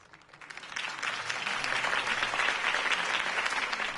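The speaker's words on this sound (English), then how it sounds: "could have heard that applause" Crowd applause after a campaign speech in Batman: The Telltale Series swells from quiet into a dense, steady wash of clapping that holds at full strength for several seconds.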